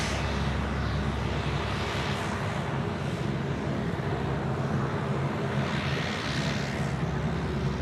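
Qantas Airbus A330 freighter on its landing roll at Sydney Airport after arriving from Melbourne: a steady, broad engine and reverse-thrust rumble with wind, continuous and moderately distant for the whole stretch.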